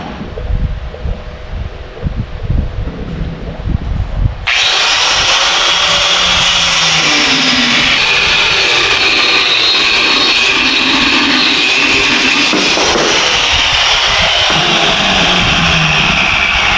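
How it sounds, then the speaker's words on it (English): A power drill starts abruptly and whirs loudly and steadily for a long stretch, its pitch shifting slightly as it bites into a metal part of a retro Trek 8300 mountain bike. "I'm trying to drill this out so I can insert this in there"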